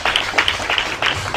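A church congregation at a Sunday service claps in quick, uneven bursts, a short, loud spell of applause from a crowd in a hall.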